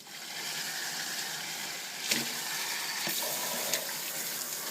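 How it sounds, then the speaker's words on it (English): Napa cabbage leaves for kimchi are rinsed under running water, a steady close rush of flowing tap water with a few brief splashy surges as the leaves are moved. "give them a good wash to ensure there is no dirt left behind"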